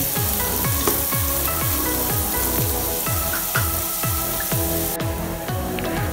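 Onions sizzle loudly and steadily in hot frying oil, with a regular scraping stir sweeping through the pan about once every half second.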